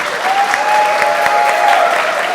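Steady audience applause greeting lead character artists on stage at a God of War character art event, a dense even wash of many hands clapping throughout.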